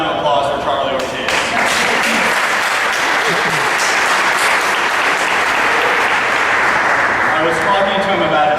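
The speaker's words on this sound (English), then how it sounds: "how about another round of applause for Charlie Ortiz?" A large crowd giving a loud, sustained round of applause at a volunteer recognition event, dense continuous clapping that fills the whole stretch, with some cheering mixed in.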